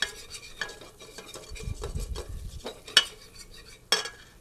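Spoon stirring a cream roux in a pan while making pasta sauce, a close, steady scraping and swirling with a soft low rumble midway and two sharp clinks of utensil on metal toward the end, with no talking.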